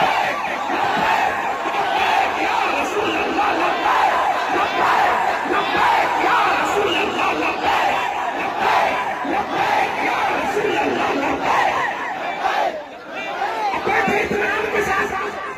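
A large, dense crowd fills the area at Jama Masjid in Delhi, a loud, continuous roar of many voices with shouting and chanting that surges and dips briefly near the end.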